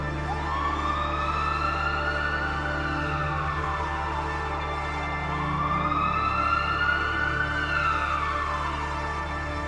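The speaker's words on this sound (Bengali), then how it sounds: "রাত ৮টার সময় এলো পুলিশের গাড়ি।" A wailing emergency siren sweeps up and down in two long, steady cycles, heard continuously from a moderate distance, with no voices over it.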